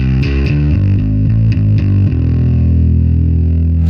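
A bass guitar runs through a Lateral Sound Linda distortion pedal, playing a short run of gritty, buzzing notes before sustaining a final fuzzy, rumbling chord.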